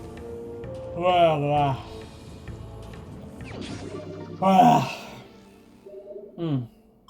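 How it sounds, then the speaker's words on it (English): A sleepy person yawns aloud several times, drawn-out groaning breaths rising and falling, close to the microphone over quiet background game sound. "I'm very sleepy. I'm gonna yawn a lot."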